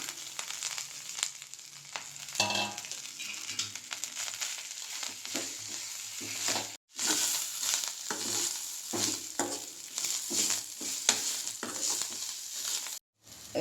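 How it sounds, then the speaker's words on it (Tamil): Coriander leaves sauté with tamarind and coconut in a pan for a chutney, a dense close sizzle with constant rhythmic stirring scrapes, briefly cut off twice. "இப்போ எல்லாமே வதங்கிச்சு, ஆஃப் பண்ணிடுறேன்."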